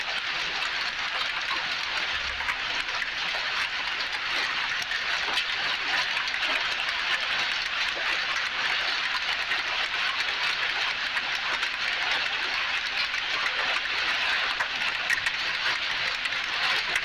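Hail and unseasonal rain fall in a steady, dense hiss that stays even throughout, with no voices.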